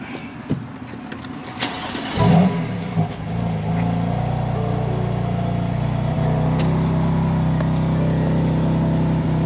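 A BMW M2 Competition engine starts with a brief rising rev, then settles into a steady, fairly close idle that rumbles on evenly to the end, preceded by a few clicks and light handling noises.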